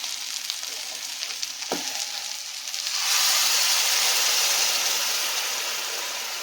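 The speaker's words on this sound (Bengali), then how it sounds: "এইবারে এতে আমি 3 কাপ জল, গরম জল এতে দিয়ে দেবো।" Three cups of hot water poured into a chicken curry with potatoes set off a loud burst of sizzling and bubbling that rises suddenly and holds steady, following quieter frying.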